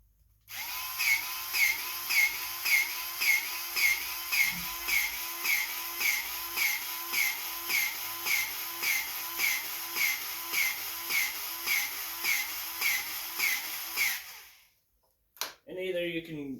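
A grease gun is pumped into the wheel zerks of a Cub Cadet zero-turn riding mower, making a rhythmic series of about twenty-five whining, hissing strokes at an even pace, followed by a short clunk.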